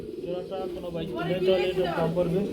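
A pair of red Bombay pigeons coos in low, rolling tones close by, while a person talks over the calls throughout.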